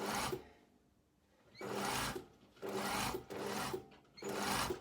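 Sewing machine stitching a blazer seam, several short bursts of rapid mechanical whirring separated by quiet pauses, fairly faint and close.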